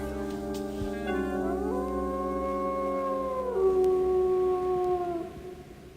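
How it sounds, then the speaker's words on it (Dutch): A wolf howls in long, sustained, gliding tones, one voice sliding up and holding, joined by overlapping howls that rise and then fade, fairly close and alone. "Spannend hè, zo'n wolf."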